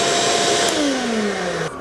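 A shop vacuum runs on power from a Bluetti AC200P solar generator, a loud steady whine that stays close and fills the short stretch, its motor pitch sliding gradually downward as it spins.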